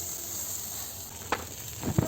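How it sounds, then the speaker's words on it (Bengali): Meat sizzling and frying on a brick-built barbecue grill at an outdoor birthday party, a steady close hiss with a few sharp crackles and pops toward the end. "দেখতে পাচ্ছি, খুব সুন্দর ভাজা হচ্ছে।"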